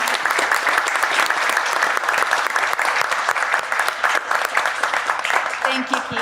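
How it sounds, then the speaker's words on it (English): Audience applause at a vision health conference, a dense, steady clapping from a crowd that fills the whole stretch at full strength, with no pause and no voices standing out above it. "I'd like you to give a big round of applause to Michael Balajan."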